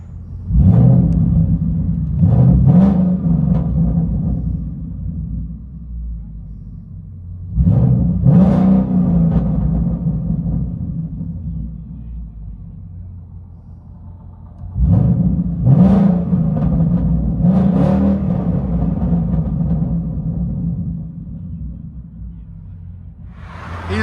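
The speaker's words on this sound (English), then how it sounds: "Let you guys hear it on the inside." Deep V8 exhaust rumble from a 2013 Ford Mustang GT 5.0L with Solo Performance exhaust, heard from inside the car, swelling in three loud revving bursts that settle back to a steady drone between them.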